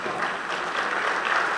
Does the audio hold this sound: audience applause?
yes